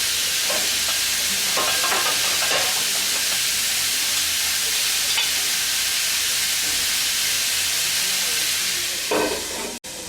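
Sweet pumpkin with kalonji cooks in a covered pan, giving a loud, steady sizzling hiss that runs throughout, with a few faint clinks near the end.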